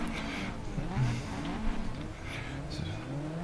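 Formula Ford race car engines in Race 07 at the Croft circuit race start, a steady droning roar of several cars with rising pitch sweeps as they accelerate off the line, continuous and moderately loud.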